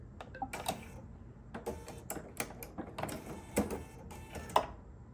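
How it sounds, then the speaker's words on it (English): Pressing the needle threader on a Bernina 990 sewing machine gives a series of sharp mechanical clicks and taps, close and fairly quiet, spread irregularly over a few seconds with no talk. "And then I press my threader."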